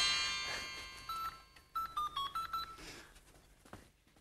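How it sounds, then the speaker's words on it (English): Toy magic fairy phone gives a series of bright electronic dialing beeps, about eight short tones in a quick uneven rhythm, fairly faint and alone. "I'll have to call Tilly the Tooth Fairy on the magic fairy phone"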